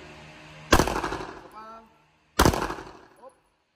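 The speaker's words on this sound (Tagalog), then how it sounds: "Dalawang putok. Magkasunod." Two sharp gunshots fired in quick succession during a firearms training drill at a shooting range, each a loud close crack with a short decaying tail, spaced under two seconds apart.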